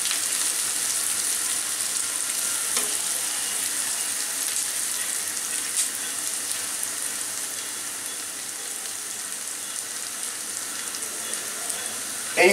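Onions frying steadily in a pan for a fish-fry dish, giving a constant close hiss and sizzle with no talk over it.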